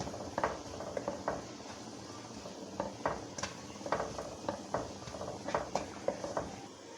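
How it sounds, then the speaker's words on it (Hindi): Turmeric, cumin and red chilli are stirred and roasted in a pan, with a spoon scraping and clinking against the metal in an irregular rhythm over a soft background sizzle. "इसे अच्छे तरीके से मिक्स करेंगे और मसाले को भूनेंगे"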